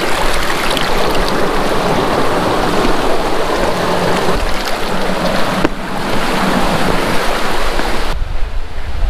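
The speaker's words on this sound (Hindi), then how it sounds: "ये सारा पानी बह कर के आता है करेरी लेक से और जाता है नीचे करेरी विलेज के पास" Mountain stream fed by Kareri Lake rushing downhill near Kareri village in Himachal Pradesh, a loud, steady broadband roar of flowing water close by, continuous throughout with a slight change in texture midway.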